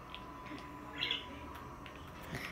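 Ambient birdsong from the GTA 4 video game, soft chirps and tweets popping up a few times over a quiet background hum.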